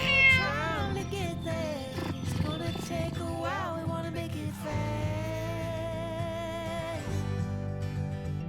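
A cat meows repeatedly from a cat TV video playing in a home, with rising, wavering calls at close range and several distinct meows over about eight seconds.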